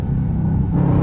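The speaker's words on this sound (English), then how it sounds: "Sport mode on. Rev match. Tap the gas pedal" A 2021 Dodge Durango R/T engine revs in sport mode during a rev match, a loud, close, deep rumble that holds steady and swells slightly toward the end.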